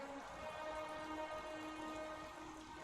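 Steady rainfall in the video game Heavy Rain, a soft, continuous wash of falling drops and patter, faint and even throughout with no talking over it.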